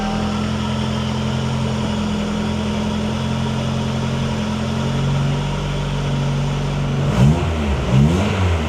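A supercharged B18C engine in a 1993 Honda Civic idles with a steady, even drone, then gets two quick throttle blips near the end that rise and fall sharply, close and loud with no talking.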